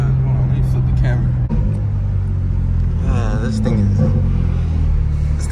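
BMW G80 M3 tuned to about 954 wheel horsepower accelerating hard on the street: a loud, close, deep engine roar with rising tones, under excited voices.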